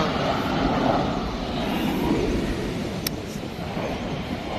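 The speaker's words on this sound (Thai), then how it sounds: "มีเครื่องบินมาลงด้วย" A fixed-wing airplane descends to land near a beach campsite, its engines a steady broad roar heard from a distance for several seconds, with no talk.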